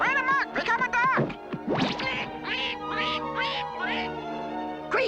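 Cartoon ducks give a rapid run of nasal, cartoonish quacks, loud and close, one after another with short gaps, some squeezed in pitch like voiced imitations.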